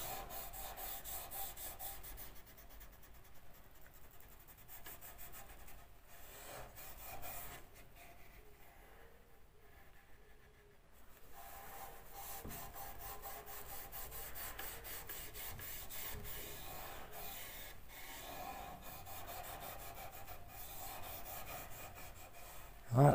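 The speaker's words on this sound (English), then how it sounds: "And then with your lint-free cloth, just rub that." Lint-free cloth rubbed over the wood of folding loft stairs with a handrail during cleaning and oiling, a steady close, soft rasping swish that runs almost continuously with rhythmic strokes.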